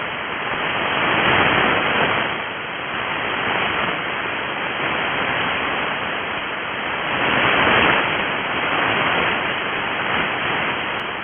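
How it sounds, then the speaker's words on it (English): Jupiter L burst decametric radio emission comes through a radio receiver as a hiss of broadband static that slowly swells and fades in long waves, like surf rolling onto a shore. "Let's listen to an L burst."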